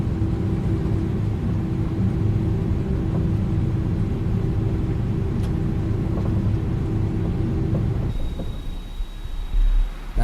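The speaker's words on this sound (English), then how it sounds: "Now I do have my external sounds down a little bit on the plane because this thing is really loud." Airliner engines of an iniBuilds A300-600R in Microsoft Flight Simulator drone in a loud, steady low rumble with a constant hum, holding evenly before shifting and thinning near the end.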